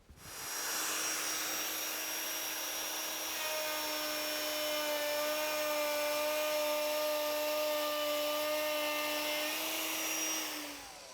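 A hand router cuts along the face grain of a wooden board, a steady high-pitched whine from spin-up to spin-down, close and alone.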